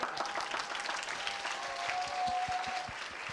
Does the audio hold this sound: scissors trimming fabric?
no